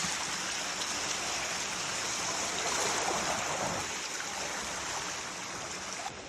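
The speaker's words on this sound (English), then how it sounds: "water traveling down the creek, of course, coming from the flood control zone" Floodwater rushes steadily down a creek from a flood control zone, a dense broadband roar, continuous and fairly close with no voices.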